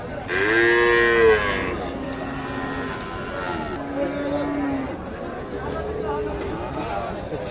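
Friesian and crossbred cattle at a livestock market moo: one loud, drawn-out low near the start, then fainter lowing later. Crowd chatter and people talking run underneath throughout.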